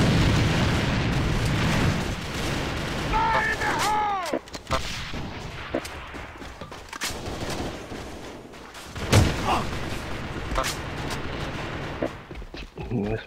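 Grenade blasts and gunfire from the online shooter AVA: loud booming explosions and rapid shots crack through a dense battle mix, with voices calling out over the chaos.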